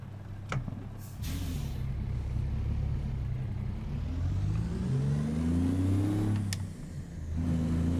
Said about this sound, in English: Now this Paystar is from Bormanns Performance, and I'm just running the Detroit diesels that come with it.